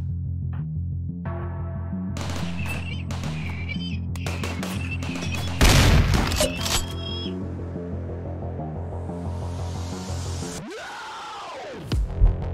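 Mechs firing on a bait turret in RimWorld, a burst of sharp synthetic gunshots and blasts over a steady game music bed, followed by a loud whooshing explosion-like swell near the end.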